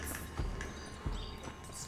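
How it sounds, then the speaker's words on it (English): Horse hooves clip-clop in the Western video game Red Dead Redemption, several distinct thuds at an unhurried walking pace, fairly close, over a faint outdoor ambience. "Looks like Carlos left us some horses"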